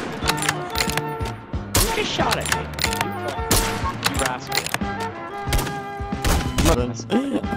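Gunfire in the Garry's Mod video game, dense bursts of rapid shots and thuds packed together, loud and close, with a player's voice talking in between.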